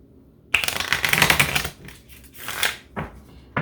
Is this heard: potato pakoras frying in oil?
no